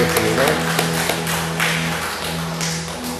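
A church congregation at a Sunday worship service claps together in a steady, dense patter over a low sustained musical hum, fairly close and even in loudness.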